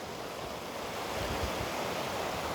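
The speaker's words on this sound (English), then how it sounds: "Pretty clear this river is all snow melt." A snowmelt-fed mountain river rushes past in a steady, dense broadband roar, close and constant with no voices.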